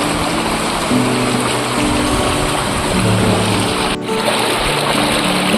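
Clear stream water at a river campsite in Magdalena, Laguna flows in a steady, gentle rush, continuous and fairly loud close by, with a faint low hum beneath.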